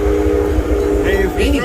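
An amusement park train ride at Six Flags Over Texas rumbles along steadily, with rolling wheel noise and a brief rising squeal or whistle-like tone near the end, loud and close.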